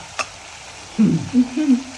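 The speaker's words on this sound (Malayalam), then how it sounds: "വെളിച്ചെണ്ണയിൽ വറുത്ത് പോരാനുള്ള ശ്രമമാണ്" Ingredients frying in hot coconut oil in a pan for a yogurt-based dish, with a soft stirring scrape followed by bursts of bubbling sizzle rising and falling close by.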